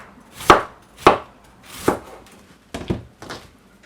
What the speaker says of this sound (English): We're just going to cut up the cabbage and carrot.